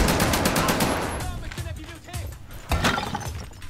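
Gunfire in a war video game: sharp bursts of shots and crackling impacts, dense at first and thinning out, then another loud burst near the end, with voices talking over it.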